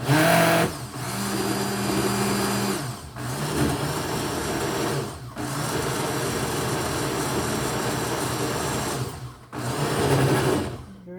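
Blender pulsing fufu until smooth, a loud continuous motor whir broken by about four brief pauses between bursts.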